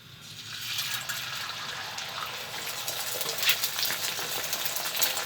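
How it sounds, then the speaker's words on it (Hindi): Beaten egg mixture fries in a pan for anda shami burgers, a dense, even hiss and crackle that swells slightly, with a couple of brief pops and ticks. "हम अंडे को अच्छे से फ्राई कर लेंगे।"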